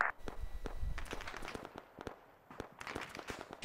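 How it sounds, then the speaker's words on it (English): Gunfire in the Arma 3 video game: a scattered run of sharp distant cracks and pops, irregular and fairly faint, overlapping in places with short quiet gaps. "Oh, that is definitely shooting."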